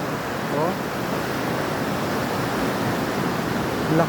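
Rushing floodwater roars as a broad, steady wash of noise, loud and continuous, with a faint voice briefly audible beneath it.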